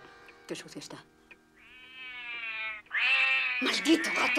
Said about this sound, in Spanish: ¡Maldito gato! ¡Vete fuera de aquí!